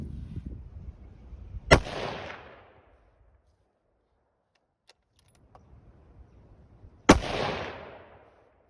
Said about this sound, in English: Third set of 3 shots at 100 yards, and I didn't do any adjustments on these 3 shots